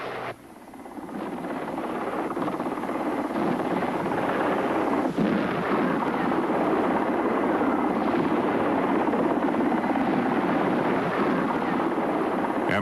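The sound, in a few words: Mi-24 attack helicopter flying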